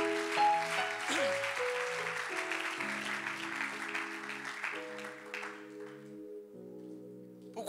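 A church congregation claps in praise to God, a dense, steady wash of applause under sustained organ-like chords, fading toward the end.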